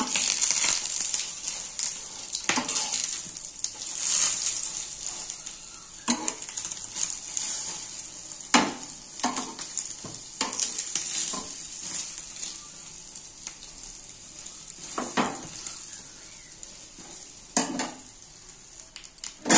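Bengali-style egg toast frying in a pan, a steady close sizzle broken by scraping clinks of a spatula as pieces are added and flipped, with no talking.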